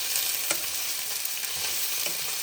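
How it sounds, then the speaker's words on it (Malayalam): Sliced onions fry in a pan with a continuous bright sizzle while a utensil stirs them, adding occasional soft scrapes over the steady crackle. "സവോള നമ്മൾ നന്നായിട്ട് മൂപ്പിച്ചു കൊടുക്കുക"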